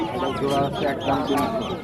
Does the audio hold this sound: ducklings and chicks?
yes